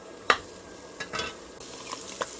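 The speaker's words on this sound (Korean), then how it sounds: "마늘, 파, 생강 다진 것을 모두 넣고 고추기름을 먼저 내요" Chili powder frying in about three tablespoons of cooking oil to make chili oil for mapo tofu, heard as a few brief scraping stirs and soft sizzling bursts close by, with no talking.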